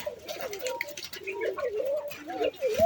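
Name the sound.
pigeons cooing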